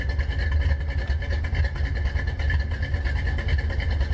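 A 1984 Ford Mustang GT350 Foxbody V8 runs steadily at close range, a loud low rumble with a constant drone and no distinct rev or gear clunk standing out.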